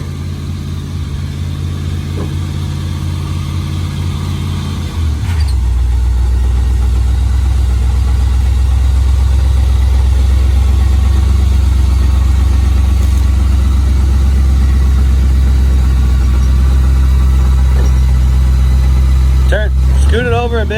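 A revived Super Sport project car's engine idles with a low rumble, then deepens and grows louder after a few seconds, running steadily and strongly while people talk over it.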